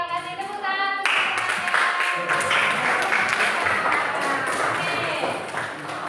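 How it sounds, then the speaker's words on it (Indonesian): Students applaud in a classroom after a group reads a short story aloud, a burst of clapping that starts abruptly and rings on loudly for several seconds, with some voices mixed in. "Ya, terima kasih tepuk tangan."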